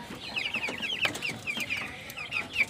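Rhode Island Red chicks about five weeks old clucking and cheeping close by, a busy run of short high chirps and clucks in quick bursts with small bumps of handling noise.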